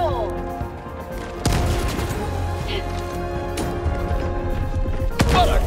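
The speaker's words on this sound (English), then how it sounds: "use a grenade to close up that bug hole" A grenade blasts a bug hole in the video game Helldivers 2, bursting suddenly with a loud thump and crash amid steady gunfire and the rumble of the battle, and a second sharp impact hits near the end.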